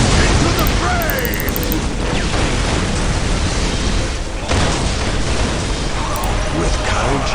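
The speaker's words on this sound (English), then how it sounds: "Let the grenade fly! Oh, that was a big explosion." A frag grenade explodes in the Warhammer 40,000 strategy game Dawn of War: a loud, dense roar of blast and battle noise that fills the whole clip, dipping briefly midway before surging back.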